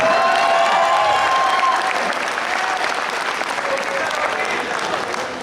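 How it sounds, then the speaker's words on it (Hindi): Audience at an alumni meet clapping together in sustained, dense applause that fills the room and holds steady for several seconds before easing slightly. "थोड़ी ताली वाली मिलके बजा दो"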